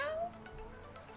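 A faint cat meow, a single rising and falling call near the start, followed by quiet room tone.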